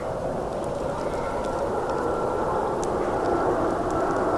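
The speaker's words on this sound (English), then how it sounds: "Oh, I hear another plane coming." Airplane passing over a campground at Raccoon Creek State Park, Pennsylvania, a steady distant broadband roar that holds evenly throughout, with faint scattered ticks in the background.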